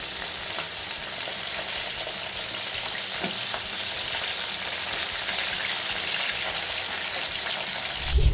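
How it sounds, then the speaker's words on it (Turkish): Pieces of Albanian-style liver fry in plenty of hot oil, giving a loud, continuous sizzle with a faint bubbling hiss that holds steady throughout, with no voices. "en fazla 3 dakika bu şekilde kızgın yağ ve bol yağda kızartalım"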